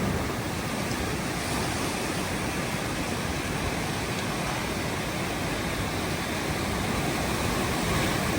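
A continuous, loud roar of sea surf churning and washing over coastal rocks nearby, steady throughout with no voices.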